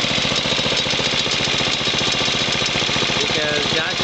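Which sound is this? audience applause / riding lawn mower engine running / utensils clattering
riding lawn mower engine running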